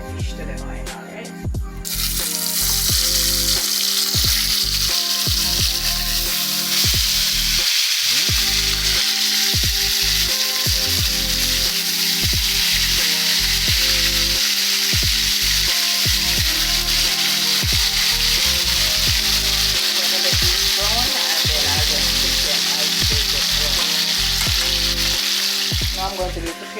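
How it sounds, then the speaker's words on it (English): Sliced fish frying in oil with garlic, a loud, close, continuous sizzle and crackle that holds steady for the full length, broken now and then by faint clicks and stirring. "I'm going to add a few pegs of garlic and then I'll be adding my fish to the oil"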